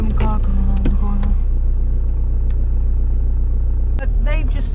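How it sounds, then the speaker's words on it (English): A car rumbles steadily nearby as it comes around a corner on a street with double yellow lines, its engine drone continuous under a woman's speech. "There's some car coming around the corner."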